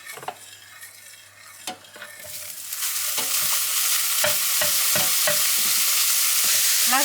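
Meat, added without extra fat, hits a hot pan while cooking lasagne filling, starting with a few clinks and scrapes before a loud, steady sizzle builds and continues, broken by occasional spatula stirs.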